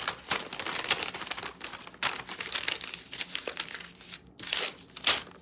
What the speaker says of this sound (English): You fold it in half this way.